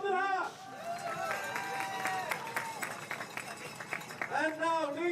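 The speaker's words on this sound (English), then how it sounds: "Kisses, flowers, and your applause, ladies and gentlemen, for the second of today," Spectators applaud the second-place rider Lars van der Haar at a men's elite cyclo-cross World Cup podium in Koksijde, a sustained wash of crowd clapping, with an announcer speaking over it at the start and end.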